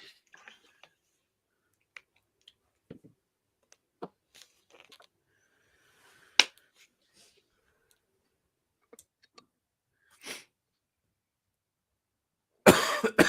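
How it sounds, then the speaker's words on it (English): Scattered coughs and small throat sounds in a quiet room, mostly faint and sporadic, with one sharp cough midway and a harsher burst at the end. "that cough sounds pretty persistent there"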